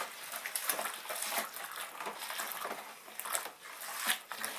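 Coopers stout home-brew wort with treacle gets stirred in a fermenter, giving close, irregular watery sloshes and swishes in uneven bursts.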